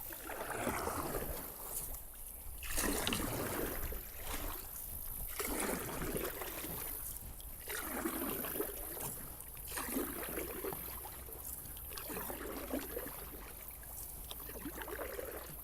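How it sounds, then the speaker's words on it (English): A kayak or small boat is paddled down a river, each stroke making a rhythmic splash and swish of water every second or two, close and steady over the flowing current, with no talking. "So now I can just paddle by and I'll have that shot of me paddling down the river."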